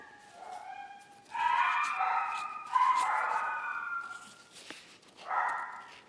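Several dogs bark, yip and whine indoors at moderate distance, in uneven bursts with brief pauses between.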